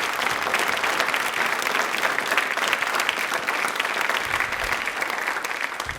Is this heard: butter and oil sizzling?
no